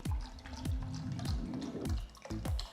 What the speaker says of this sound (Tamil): முட்டை முங்குற அளவுக்கு தண்ணி ஊற்றி